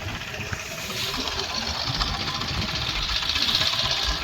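A fishing boat's engine hauls in a net on a windy day of crab net fishing, chugging with a steady knocking rhythm that runs close and loud for the whole stretch.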